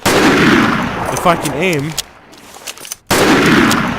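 Rapid gunfire bursts from a Unity multiplayer first-person shooter, fired during a reload, loud at the start and again at the end, with a voice speaking briefly between them.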